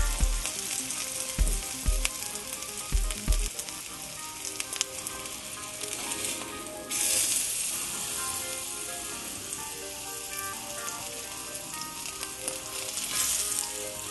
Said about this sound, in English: So we're searing all these sides.